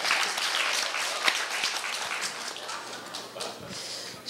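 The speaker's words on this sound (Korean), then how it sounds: "이지원 양을 위해서 좀 박수 좀 쳐주셨으면 합니다." An audience at a Korea University speech contest claps for a student speaker, a moderate patter of applause that fades gradually.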